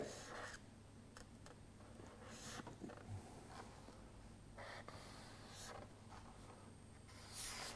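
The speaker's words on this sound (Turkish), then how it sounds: "Onu da şuraya yazıyorum." A marker squeaks and scratches on a board as Arabic letters are written in a lesson, faint strokes in short bursts over a quiet room, with no talking.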